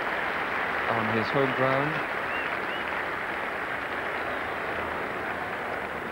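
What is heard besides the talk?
cricket crowd applauding Mike Atherton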